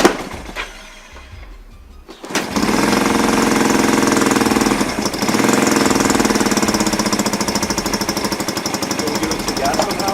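A 1975 Honda CB200T vintage twin motorcycle with a stuck float and leaking fuel catches after a brief quiet pause and settles into a loud, fast, rattling, pounding run that carries on close up.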